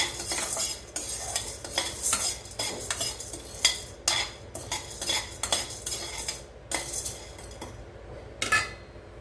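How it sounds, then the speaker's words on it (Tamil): Lentils and black pepper dry roasting in a pan, stirred with a metal spoon: repeated scraping and clinking strokes against the pan at an uneven rhythm, close and fairly loud, with no talk. "பருப்பு நல்லா ஒரு கலர் சேஞ்ச் ஆகி வர வரைக்கும் வறுத்துக்கிட்டோம்"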